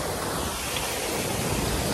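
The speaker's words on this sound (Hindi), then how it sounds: "लो झरना दिखाता हूँ" Waterfall in Dalhousie giving a steady, dense rush of falling water, close and loud throughout with no break, broadband like roaring surf.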